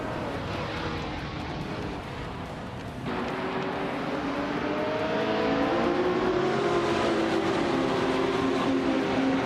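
Race cars on the final lap of a race: engines roar steadily and swell louder as the cars draw nearer, with their pitch rising, and no voices are heard.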